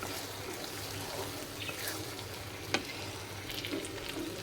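Faint, steady sizzle of beef mojok frying in a pan, a soft crackling hiss throughout with one sharp click partway through.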